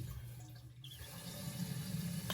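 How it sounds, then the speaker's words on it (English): Water runs steadily through a household shutoff valve just opened after an interior plunger repair, a soft low flowing rush that builds slightly and continues alone without talk. "I'm going to open this and see if I get any leakage here"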